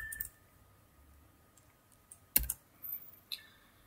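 Quiet computer keyboard typing while writing PL/SQL code: a few sparse, soft key clicks with a sharper cluster of taps near the middle, set against near silence.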